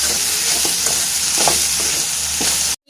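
Boiled stingray fish is stirred in a hot pan. A loud, continuous close-up sizzle runs throughout, with several soft scraping stirs at intervals, and it cuts off abruptly at the end.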